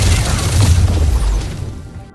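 A grenade blast from the game Arknights: Endfield booms loudly at once, with a heavy low rumble and crackling debris that trail off quickly into near silence.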